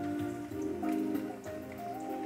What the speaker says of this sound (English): You hear that? Very nice sizzle.